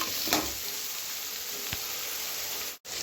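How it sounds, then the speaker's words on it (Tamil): Bottle gourd pieces sautéing in hot oil with curry leaves for a masala curry give a steady, close sizzle, with a faint stir near the start and a brief dropout near the end. "சுரக்கா அப்படியே இந்த ஆயில்லையும் வதங்கிக்கணும் இப்போ சுரக்கா அப்படியே வதங்கிக்கட்டும்"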